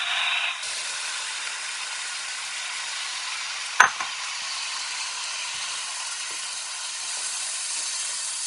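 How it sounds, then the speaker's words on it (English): A steady, fairly loud hiss of food sizzling in a pan, with a brief clatter partway through. "there's a lot of sizzling"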